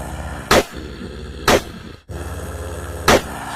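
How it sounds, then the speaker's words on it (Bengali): Three loud, sharp revolver shots in an animated ghost story, spaced about a second apart over a low rumbling background. "তাবু লক্ষ্য করে বেশ কয়েকটা গুলি ছুঁড়ল"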